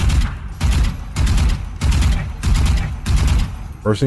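Vandal rifle in Valorant fired in short, evenly spaced bursts of two to three loud cracking shots each, six bursts in a row with brief gaps between them.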